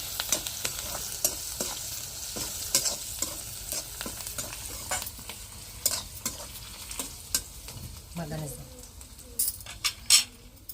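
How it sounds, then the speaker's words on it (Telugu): Poha upma is stirred and fried in a pan, a soft sizzle under repeated scraping and clinks of a spoon against the metal, with brief speech in between. "మంచిగా అయితే కలబెట్టేద్దాం"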